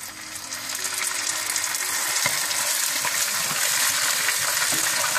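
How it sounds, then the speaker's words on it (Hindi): Chicken biryani onions sizzling steadily in a pot as yogurt goes in, a continuous loud frying hiss with faint stirring scrapes throughout. "फिर बाकी प्याज में आपने दही डाल देना है।"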